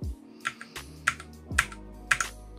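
Keys being typed on a computer keyboard connected through a PX UCH160D USB hub, with a handful of crisp, separate clicks at irregular intervals over a low steady hum, close and fairly quiet.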